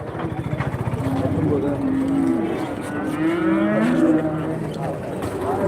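Cattle moo repeatedly in drawn-out, overlapping calls amid a busy outdoor crowd at a Sunday livestock market in Santhipuram, Andhra Pradesh, with people talking and an engine rumbling in the background.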